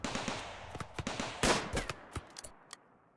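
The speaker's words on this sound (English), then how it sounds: "Wally got a couple of gunshots, nothing serious. Black got a couple of machine pistol shots." Gunfire in the colony game Rimworld: irregular sharp cracks mixed with rapid machine-pistol bursts, a heavier blast in the middle, then scattered shots tapering off into quiet.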